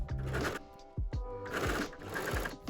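Sewing machine stitching French terry fabric for a relaxed midi dress, running in steady bursts with brief pauses and restarts, close and fairly loud, with no talking.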